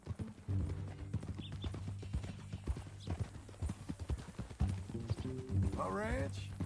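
Horse hooves clip-clopping at a steady walking rhythm in the video game Red Dead Redemption 2, close and clear, with people talking over them and a brief whinny near the end.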